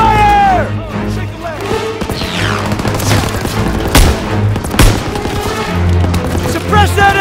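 Call of Duty: WWII battle with rifle shots and machine-gun bursts booming loudly over constant rumble, while soldiers shout orders throughout.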